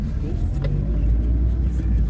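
A car engine rumbles steadily with a low, continuous exhaust drone after the exhaust was welded at its round inlet, close by, with no talking over it.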